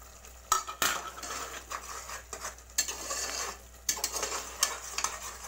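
Masala sizzling in a pan while a utensil stirs and scrapes it, with repeated clinks and scrapes against the metal over a gentle, continuous frying hiss, close by.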